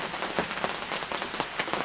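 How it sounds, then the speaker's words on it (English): Heavy rain drums on a greenhouse in a dense, loud, steady patter with sharper individual drops hitting the surface, and no voices. "that's how hard it's been raining"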